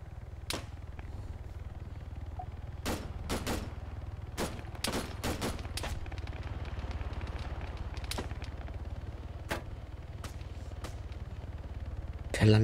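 Scattered rifle and automatic gunfire in a King of the Hill match in the military shooter Arma 3, with sharp cracks and short bursts at irregular intervals, some near and some distant, over a steady low rumble.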